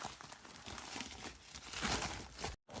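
Close crinkling and tearing of a FedEx package as it is pulled open by hand without scissors, a short busy burst ending abruptly.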